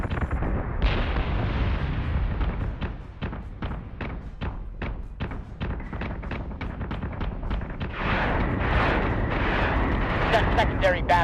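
Spaceship batteries fire in Battlestar Galactica Deadlock, a rapid, evenly spaced run of sharp shots over a steady rumble, ending in a denser burst of fire and explosions.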